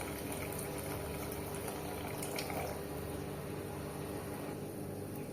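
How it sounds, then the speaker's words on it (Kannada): Soaked tamarind juice poured into a pot of fish sambar, a steady close liquid splash and trickle that runs continuously without breaks. "ನಾನೀಗ ಹುಣಸೆಹಣ್ಣು ಏನು ನೆನೆ ಹಾಕಿಟ್ಟಿದ್ದೆ ಅದರದ್ದು ರಸ ಹಾಕ್ಕೊಳ್ತಾ ಇದ್ದೀನಿ"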